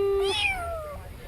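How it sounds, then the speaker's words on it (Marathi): A kitten gives one short, high, rising-then-falling meow, close and clear, followed by quiet. "इकडं मांजरेचं बच्चू"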